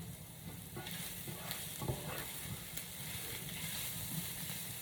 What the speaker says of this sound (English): I'm just going to stir all of the meat into those seasonings, and then I'm going to let those just kind of toast up a little bit